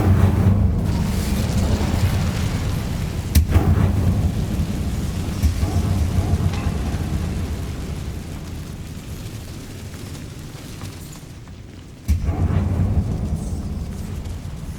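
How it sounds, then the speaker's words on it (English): Casting the Incendio fire spell in Hogwarts Legacy, with a low rumbling whoosh of flame swelling and fading, followed by a sharp burst near the end, loud and up close, with no speech. "Incendio."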